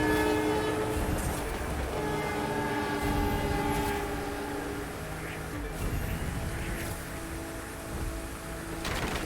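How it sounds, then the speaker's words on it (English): A train in The Crew 2 racing game sounds its horn with sustained harmonic blasts over rumbling wheels and clatter, loud and continuous as it passes close by. "they came up with some surprise train or whatever"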